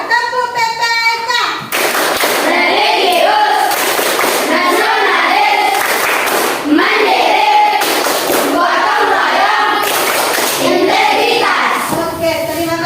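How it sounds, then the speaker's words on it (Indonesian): Schoolchildren in a classroom perform a rhythmic clapping chant, bursts of loud patterned claps alternating with sung chanting voices, repeated in several cycles. "mari kita relax sejenak dengan tepuk PPK"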